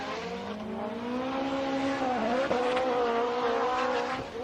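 A drift car at Formula D qualifying in Orlando, 2016, holds a loud, sustained, rasping exhaust note with shifting engine pitch and screeching tire squeal, heard at a distance.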